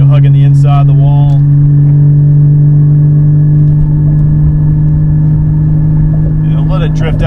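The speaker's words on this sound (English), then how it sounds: "Hard on the gas, flat out, you know, hugging the inside of the wall." A car races flat out around the Music City Grand Prix street circuit, its engine holding a loud, steady, close droning roar throughout, with a voice talking over it at the start and end.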